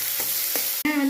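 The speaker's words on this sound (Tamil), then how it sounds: "பெரிய வெங்காயம் கூடயே கருவேப்பிலையும் போட்டுட்டு நல்லா பொன்னிறமாக வதக்கிக்கலாம்" Chopped big onions and curry leaves fry in hot oil, giving a steady close sizzle with brief stirring scrapes and a short clatter near the end.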